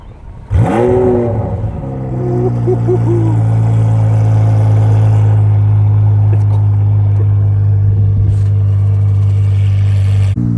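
Lamborghini Aventador SVJ V12 engine roaring loud and close as the car pulls away at night, a sharp rev rising then settling into a sustained deep drone that holds steady with a few brief blips.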